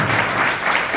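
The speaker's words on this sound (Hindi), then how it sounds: "तो जोरदार तालियों के साथ।" Dense, continuous applause from a crowd at a school Independence Day ceremony, loud and steady across the whole short moment.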